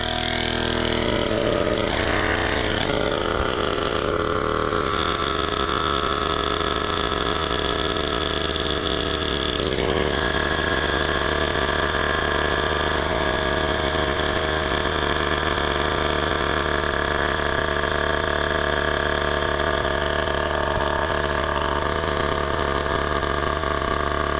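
A LASFITAIR CR1 tire inflator pumps up a tire to 35 psi with a constant motor hum and rapid piston chatter, steady and close for the whole stretch with no one speaking.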